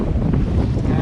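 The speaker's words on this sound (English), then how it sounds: "These winds are also very blustery." Loud blustery wind buffets the microphone aboard a sailboat at sea in the Caribbean, a steady roaring rush with water and wave noise beneath, close and constant with no break.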